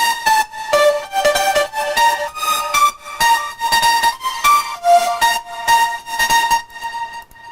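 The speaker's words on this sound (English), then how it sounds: "we have this pluck-ish sound from I think Deep House expansion pack in Nexus" Plucky synth patch from the Nexus Deep House expansion playing a busy melodic line of short bright notes, steady and fairly loud with no voices.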